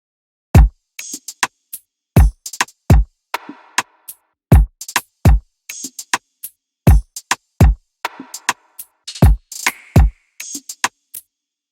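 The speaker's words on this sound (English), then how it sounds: "I then added this snap, which simply just plays here at the end." Afroswing beat built in FL Studio, with sharp snaps and deep kick hits in a steady syncopated pattern over near-silent gaps, a snap sample added near the end, loud and dry with no voices.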